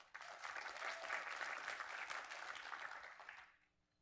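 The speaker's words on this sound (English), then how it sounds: "Round of applause, everyone." An audience at a young scientist competition final event breaks into steady applause, a dense, fairly distant wash of clapping that holds for over three seconds before fading quickly.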